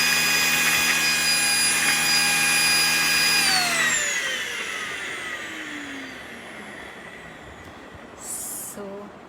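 A Xiaomi Deerma dust mite vacuum cleaner running, a loud high motor whine with a bright tonal hum that cuts off and spins down with a falling pitch, leaving a fading rush of air and a brief rustle at the end.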